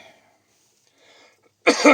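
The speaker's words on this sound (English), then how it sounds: "Still got a cough today" A single short, close cough from a man with a chesty illness, bursting out loudly at the end after near silence.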